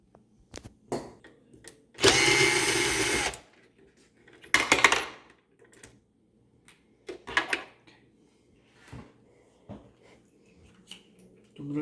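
A power screwdriver backs screws out of a Beko Turkish coffee machine in short motor bursts: one longer whir, then a second burst, with light clicks and handling noises between them.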